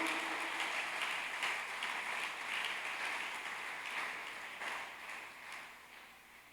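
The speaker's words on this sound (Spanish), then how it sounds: "Dale un fuerte aplauso a Él." Steady applause from a church congregation, a continuous wash of clapping that fades slightly toward the end, with no voices standing out.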